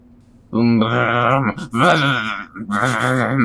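A voice makes a long, droning, wavering hum in a few sustained bursts, imitating an airplane.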